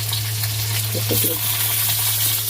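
Onions frying in oil with bay leaf, cumin, small cardamom and cinnamon, a dense close sizzle running throughout with a few soft stirring knocks midway.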